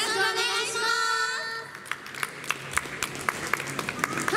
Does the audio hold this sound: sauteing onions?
no